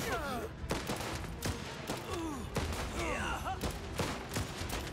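Rapid bursts of gunfire in the video game Last Train Home crackle repeatedly over a busy background, with faint voices mixed in.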